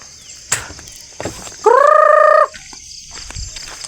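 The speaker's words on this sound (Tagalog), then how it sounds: "tapos na po ako magpakain sa manok dito" Farm fowl call out around feeding time: one loud, sustained gobbling or clucking cry stands out, surrounded by scattered faint clucks, rustles and knocks, with no talking.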